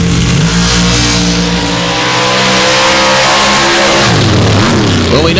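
Stock Jeep and Bronco engines rev hard at a race track, a loud continuous roar with the pitch climbing and then dropping sharply near the end as the revs change.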